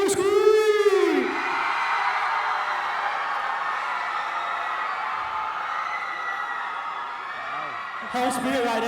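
A crowd of students in Hall 13 screams and cheers at a live campus event, a sustained roar that fills the middle, framed by a loud amplified voice shouting at the start and end.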